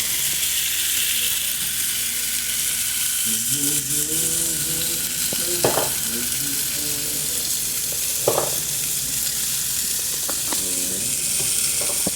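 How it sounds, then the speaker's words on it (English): Sauce sizzles in a pan while lamb is being cooked, a constant close frying hiss with a few scraping stir sounds and brief clanks. "So right now I'm adding some sauce into another pan."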